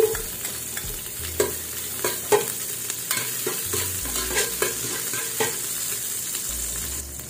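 Garlic frying in hot cooking oil, a steady close sizzle broken by several sharp clicks and scrapes of stirring, with no voices.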